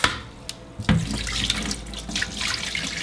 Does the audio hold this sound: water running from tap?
yes